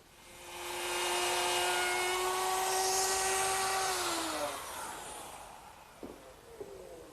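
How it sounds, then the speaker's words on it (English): A router with a 1/2-inch spiral bit cutting a wooden tenon: a loud, steady high-pitched whine and hiss of the bit chewing wood, winding down after a few seconds with a couple of light knocks as it stops. "I ride the router against the straight edge to cut the tenon in the right place"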